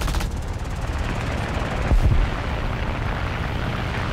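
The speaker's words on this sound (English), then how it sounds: "Let's see if we can't get a few shots in somebody before we go" Aircraft machine guns in War Thunder with an I-15bis biplane: a steady rattling stream of fire over a droning engine, close and loud, with a heavier thump midway.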